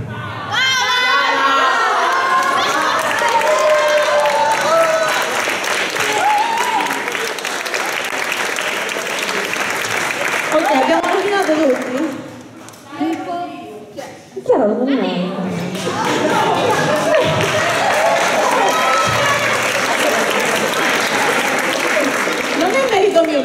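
Audience applause and cheering in a church at a preview of a Mother Teresa musical, loud sustained clapping with shouts and children's voices, a brief lull near the middle, then the applause swells again.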